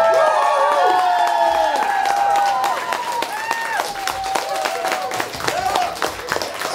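A concert crowd at a live show in Moscow claps and cheers in a dense, steady ovation, loud and close, with whoops and sustained tones over the applause.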